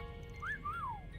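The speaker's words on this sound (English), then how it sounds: "Was that a wolf whistle?" Two-note wolf whistle in the game Trails Through Daybreak, a short rising tone followed by a longer rising-then-falling glide, clear over a low background hum.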